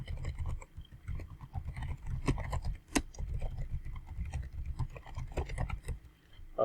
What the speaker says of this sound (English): Then you start typing whatever you need to type.